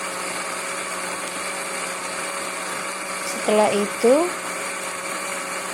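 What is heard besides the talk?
blender grinding spices for sayur sambel godog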